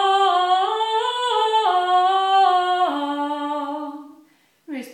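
A solo sung vocalise exercise for intonation across a sixth interval, a clear sustained voice stepping through a series of held pitches before a short pause and a fresh attack at the end.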